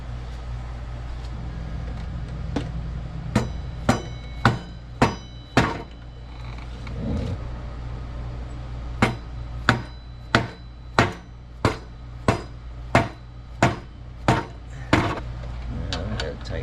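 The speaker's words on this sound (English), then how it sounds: "but I need a mallet." Mallet strikes during a home repair job, roughly a dozen and a half sharp, evenly paced blows in two bursts over a steady low hum, close and loud.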